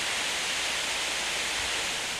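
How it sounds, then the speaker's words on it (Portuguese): A waterfall over 40 metres high gives a steady, even rush of falling water, a constant broadband roar heard alone without voices. "Uma cachoeira com mais de 40 metros de altura."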